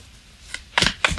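Tarot cards being shuffled by hand, a faint rustle followed by two quick, close riffling bursts, with no talking.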